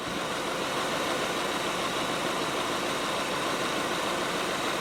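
A car engine runs steadily with its fans, serpentine belt and alternator turning during an air-conditioning repair, a quiet, even drone and hum with no change throughout.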